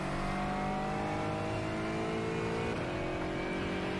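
BMW and Aston Martin GT4 race cars roar in the iRacing simulator, a loud, steady engine drone whose pitch climbs as they accelerate up a hill, with no talking.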